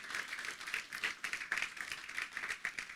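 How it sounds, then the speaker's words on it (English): An audience at an outdoor affordable housing groundbreaking ceremony claps in a steady patter, faint and distant, with no voices over it. "I think that deserves a round of applause."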